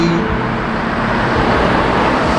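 A 2018 Dodge Challenger Hellcat on five-star rims idles, a steady loud low rumble holding without pause for the whole stretch.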